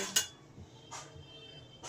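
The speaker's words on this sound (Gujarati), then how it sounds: "મિનિટે મિનિટે અંદર ચમચો નાખવાનો અને હલાવવાનું છે" A metal spoon scrapes and clinks against a pot of carrot halwa as it is stirred, giving three separate short knocks spread over two seconds, fairly quiet with no talking.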